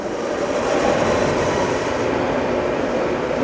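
Sharp OMV vertical mill spindle running in high gear at 3,000 RPM, a steady even mechanical whir with a broad hum, close and constant without talking.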